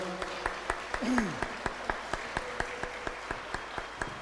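An audience under a shed claps at a tribute gathering, slow, sparse rhythmic claps about every quarter second, faint and spaced, with a brief tonal voice or whistle rising and falling near the start.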